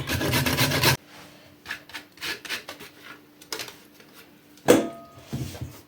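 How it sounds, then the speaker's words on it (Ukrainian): Carrots being grated on the coarse side of a grater for borscht dressing, a series of short scraping rubs in bursts, with a louder clatter near the end. "Для борщової заправи треба натерти на тертушку, я ось тру на цю крупнішу."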